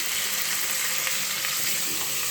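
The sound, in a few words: vegetables being stirred while frying in a pan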